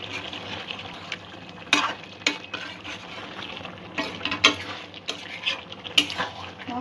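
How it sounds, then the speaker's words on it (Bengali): A spoon scrapes and clinks through chicken curry frying in a metal pan, with repeated sharp stirring strokes over a low, steady sizzle. "আমি একটু সব কিছু ভালো করে নাড়িয়ে নেব"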